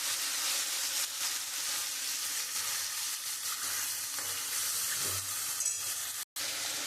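Ginger and cumin spice paste sizzles steadily in hot oil in a pan for Bhola fish curry, a close, continuous frying hiss with a brief break near the end.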